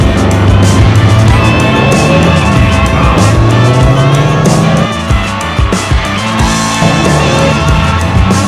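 A Pontiac race car roars loudly at a drag race. The engine drones without a break, with revving sweeps that rise and fall in pitch, and the sound stays close and dominant throughout.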